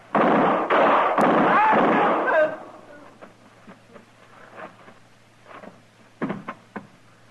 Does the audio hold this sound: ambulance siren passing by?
no